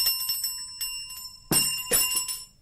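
A bell tingles in a few bright ringing strikes, the first ones soft and the later two louder and closer, each decaying quickly, with no voices.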